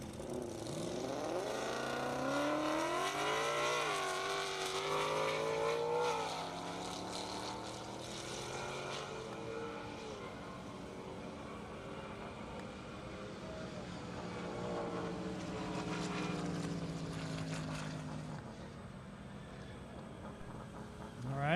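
Corvette C7 from Vengeance Racing making a half-mile drag run at an airport strip, engine roaring with rising pitch sweeps through gear changes and then fading away, under a commentator's voice.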